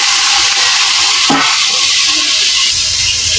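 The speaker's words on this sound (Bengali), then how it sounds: "টমেটো চাটনিটাও বসাই দিতেছে শুকনো মরিচ আর সরষা সম্বাসী দিয়েছি" Tomato chutney with dried chillies and mustard seeds cooking in a pan, a loud, steady broadband hiss of steam and sizzle throughout, with a brief louder flare partway through.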